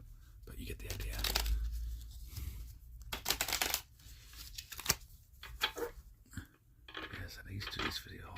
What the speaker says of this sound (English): do different shuffling techniques with the cards